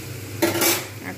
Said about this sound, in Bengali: একটু ঢাকনা দিয়ে রেখে দেবো